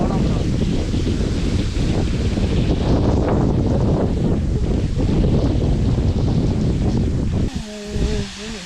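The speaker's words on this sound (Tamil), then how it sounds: "இந்த காற்றுக்கு அப்படியே தாக்கிற மாதிரியே ஃபீலிங்." Strong wind buffets the microphone on a hiking trail at Kalugala Gerandi Ella, a loud, continuous roaring rush that eases near the end as faint voices come through.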